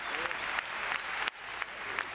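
Crowd at an ice hockey game, Skellefteå AIK against JYP, breaking into broad applause and cheering for a player's effort, a steady wash of clapping held for a couple of seconds.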